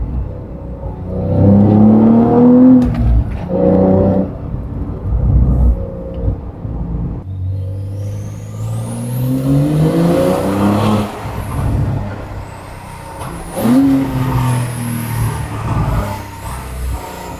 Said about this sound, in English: Get some nice overrun.